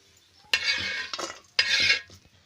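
A spoon stirs drumstick vegetable curry in a pan, two long scraping, sizzling strokes with a short clatter between them, close and fairly loud, with no voices.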